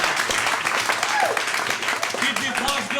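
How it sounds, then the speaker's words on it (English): A live show audience claps and cheers in a dense, loud wash of applause, with voices and calls mixed in throughout. "Give yourselves a big round of applause"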